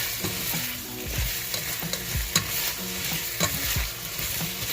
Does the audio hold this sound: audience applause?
no